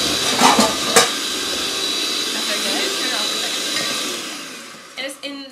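An electric mixer whirs steadily, beating brownie batter in a home kitchen, a continuous buzzing hum that winds down near the end, with voices talking over it.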